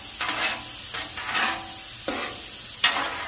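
Breakfast burrito filling being stirred in a pan, with a soft steady sizzle broken by several scraping stirs at an even, unhurried pace, heard up close and without talk.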